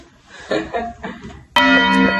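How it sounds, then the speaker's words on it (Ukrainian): A church bell peal suddenly rings out loud and close, its sustained, ringing strikes starting midway after a stretch of low voices and movement. "Я вже вийшла, почала дзвони фігачити."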